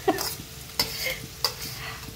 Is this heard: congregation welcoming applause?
no